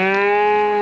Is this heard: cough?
no